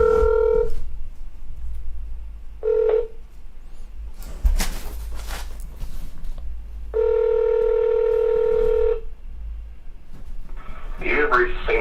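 Telephone keypad tones and ringing from a call placed to the City Hall in Seaman, Ohio: bursts of steady tones separated by pauses, ending in a brief muffled voice.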